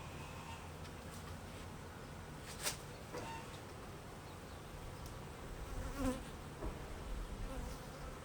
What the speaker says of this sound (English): there's some bees hitting really hard on my head right now.